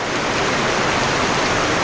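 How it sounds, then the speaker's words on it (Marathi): Heavy monsoon downpour in a Konkan village, a dense, steady roar of rain that fills the whole clip with no pauses and no voices. "धो धो पाऊस एकदम मुसळधार पाऊस"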